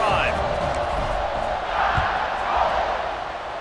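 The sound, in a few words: stadium crowd cheering at kickoff in EA Sports College Football 26 video game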